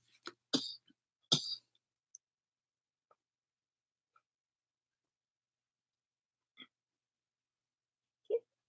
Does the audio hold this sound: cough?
yes